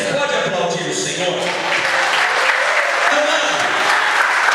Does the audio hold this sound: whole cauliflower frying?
no